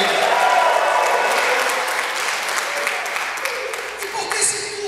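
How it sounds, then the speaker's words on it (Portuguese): Sustained applause from an audience at a church gathering, a dense wash of clapping that holds steady and loud, slowly easing toward the end. "Dê um aplauso a ele."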